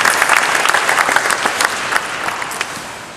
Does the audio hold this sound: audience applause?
yes